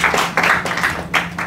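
An audience at a coaching training session applauds, a close, dense clapping in uneven swells that rise and fall over a moment or two, with no talking over it.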